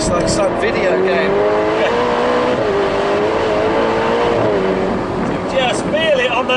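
Ferrari 812 Superfast driven hard on a winding road while chasing an Aston Martin, its engine note rising and falling steadily through the whole stretch, loud and close inside the cabin beneath a voice.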